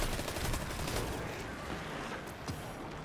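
Gunfire aimed at the player in the video game Destiny 2, a dense, continuous rattle of overlapping shots and impacts at steady loudness throughout.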